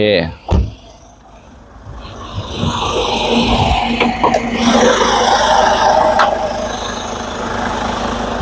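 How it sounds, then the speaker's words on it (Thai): A 2015 Hyundai Grand Starex VIP van with an A2 engine idles steadily with its hood open, a low continuous hum after a couple of clunks at the start, while someone talks over it. "ไหนๆ ก็ติดเครื่องไว้แล้ว ก็ติดเครื่องไว้เลยนะครับผม"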